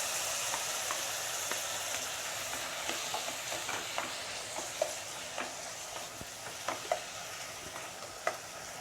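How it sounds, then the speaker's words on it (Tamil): Onions and tomatoes sauté over high flame for a prawn mustard curry, making a quiet continuous sizzle with scattered pops and light stirring clicks that grow more frequent toward the end. "கொஞ்சம் ஹை ஃப்ளேமில் வச்சு நீங்கள் வதக்குங்க."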